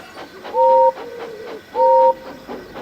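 Toy-style steam train engine puffing rhythmically with two short bright whistle blasts, close and loud, the steady chuffing continuing between the whistles.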